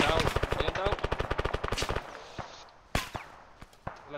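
Automatic gunfire from the video game Arma 3 on the island of Tanoa: a fast, loud, sustained burst of rapid shots for about two seconds, then scattered single cracks with a few distant pops.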